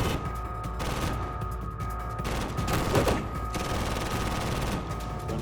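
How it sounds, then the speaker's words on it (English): A machine gun firing a rapid, continuous burst of roughly a hundred rounds, a dense rattling roar of shots with no pauses, heard from a short distance and with no talking. "I fired roughly 100 bullets in only a few seconds."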